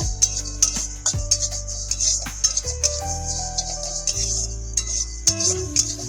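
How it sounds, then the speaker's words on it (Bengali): Sesame tomato pickle fries in a pan with a steady high sizzle while a spatula scrapes and stirs it in irregular strokes, all beneath tonal background music. "এটাকে আরেকটু ভাজা করে নিব, কড়া না হওয়া পর্যন্ত কিন্তু আমি একে ভাজা করে নিব।"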